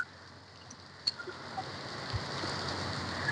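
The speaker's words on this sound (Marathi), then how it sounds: "इथे पाऊस पण मस्त छान पाऊस आहे जबरदस्त पाऊस आहे" Heavy rain falls steadily in a hiss that builds slightly toward the end, with a few scattered drop taps and no voices.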